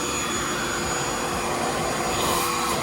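A steady, loud rushing whir of a RevAir suction hair dryer running continuously, broadband airflow noise with no talking.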